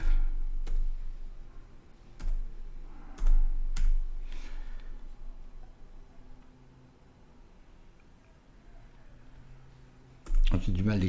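A computer keyboard clicks in sparse, irregular keystrokes at close range, with a few louder taps separated by quiet gaps and a soft background hiss.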